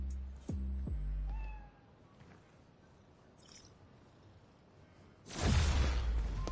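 A cat meows twice in quick succession, close and clear, in the Spider-Man Miles Morales video game on PS5, followed by a burst of noise and a quiet stretch.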